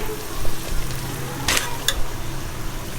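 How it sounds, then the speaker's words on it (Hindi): Chicken sizzling and frying in a hot pan for biryani, a steady crackling hiss with a couple of sharper scraping stirs. "चिकन को हम 4 से 5 मिनट भूनना है"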